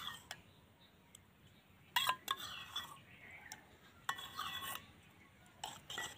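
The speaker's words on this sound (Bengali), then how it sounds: "খুব ভালো করে দইটা দুধের মধ্যে মিশিয়ে নেব" Spoon clinking against a bowl while yogurt culture is stirred into warm milk for Bengali mishti doi, with a few sharp scattered clinks and scrapes over a quiet background.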